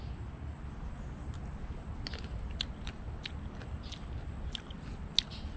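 Crisp, sparse crunches come as someone bites into and chews raw katuk shrub in a Southwest Florida garden, a few sharp snaps over a quiet outdoor background with no talk.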